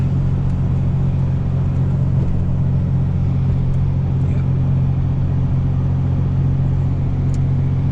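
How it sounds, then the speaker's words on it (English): A truck engine drones steadily while driving with the heater on, a loud, constant low rumble with no breaks and no talk over it. "how droney this truck is in comparison to my car"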